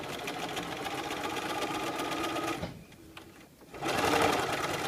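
A sewing machine with a gathering foot stitches lace so it bunches up, a loud, rapid mechanical chatter that pauses briefly and then resumes.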